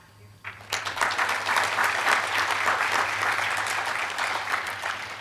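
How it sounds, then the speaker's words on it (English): Applause at a California Highway Patrol medal of valor ceremony for the CHP Color Guard, sudden full clapping from a large audience that starts after a short pause and holds steady for several seconds, with no talking over it. "let's give them a round of applause as well"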